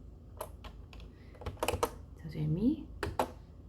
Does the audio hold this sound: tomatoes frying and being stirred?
no